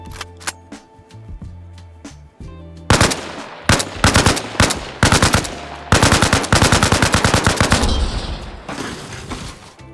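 AK rifle fire in a video game, aimed at a helicopter's rotor: a few sharp single shots, then long, loud, close bursts of rapid automatic fire with short pauses between strings, and no voices.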